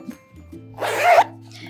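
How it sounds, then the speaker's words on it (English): Zipper being pulled open on a pair of handmade high-waisted twill shorts, a single close rasping zip lasting under half a second, with quiet room tone before and after. "And now when I unzip it"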